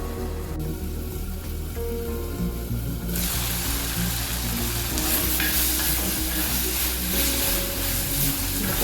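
Medium tomato sautéing in a pan while rava idli is being prepared, a steady close sizzle and frying hiss that jumps louder after a few seconds and continues with stirring scrapes, no talking.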